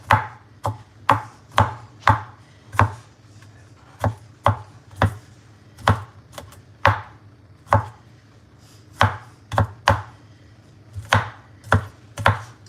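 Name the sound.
knife chopping garlic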